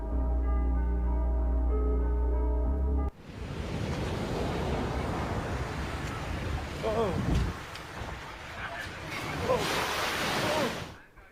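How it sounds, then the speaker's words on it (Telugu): Huge ocean waves crash on the California coast during storm flooding, a loud, continuous roaring surf with windy rumble that begins abruptly after a few seconds of music. "రాకాసి అలలు ఎగిసిపడుతున్నాయి"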